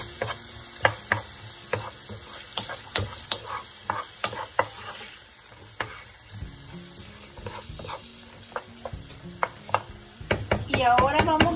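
Food is sautéed in a pan before rice goes in, with a continuous sizzle broken by frequent sharp scrapes and knocks of a spoon against the pan, close up and without voices.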